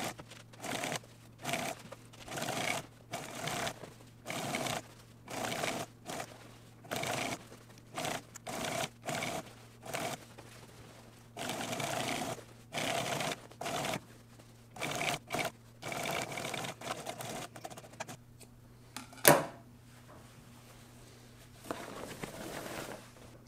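A Consew 389RB-2 post-bed sewing machine top-stitches a garment sleeve seam in quick stop-and-start bursts of rapid mechanical chatter, faint and close, separated by short pauses, with a sharp click near the end.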